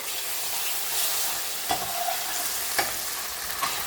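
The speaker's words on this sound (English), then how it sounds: "To this, I'm going to add my garlic and ginger paste and let that cook off." Garlic and ginger paste sizzling in a pan over browned onions for chicken pathia, a steady fry hiss with a few sharp stirring scrapes and taps of a utensil, close and alone.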